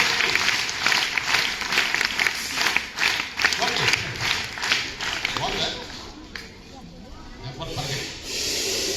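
Audience clapping fills a crowded room in a Telugu classroom talk for tenth-class students, a dense, sustained patter of many hands with some voices mixed in, fading slightly toward the end.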